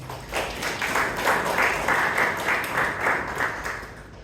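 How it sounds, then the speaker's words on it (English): Audience at a Toastmasters club meeting in Bangalore breaks into sustained applause, a dense wash of clapping holding steady throughout at moderate loudness. "Let us give another big round of applause."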